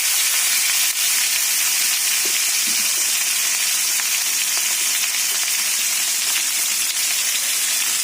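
Tomato and ginger paste frying in a pan, producing a bright, steady hiss of sizzling oil with a few faint clinks, close and continuous with no talk.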